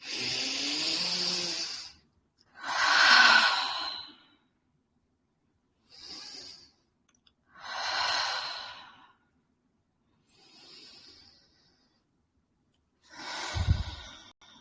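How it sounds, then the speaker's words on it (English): Several deep breaths in and out, each a long airy hiss a couple of seconds long separated by short silences, close and fairly loud, during a guided self-love meditation. "I invite you to take 3 really deep breaths."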